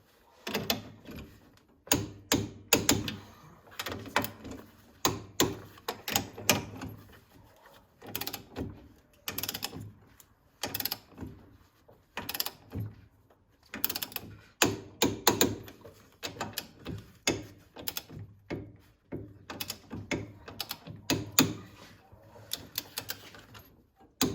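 A torque wrench tightens the rear-spring U-bolts on a 1981 Pontiac Firebird Trans Am, a long run of close, sharp mechanical clicks and ratcheting bursts in irregular clusters with short pauses between pulls.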